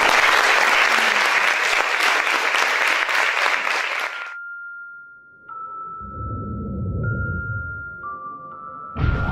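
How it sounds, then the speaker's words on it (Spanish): Applause from the audience at a talk on transmedia storytelling rings out loud and dense for about four seconds. Then it cuts off, giving way to sustained tones and low rumbling sounds. "les pido un fuerte aplauso para nuestros conversadores"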